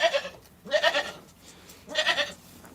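Goats on a farm bleat three times in a row, the calls wavering and spaced about a second apart. They are loud and near, with no talking over them.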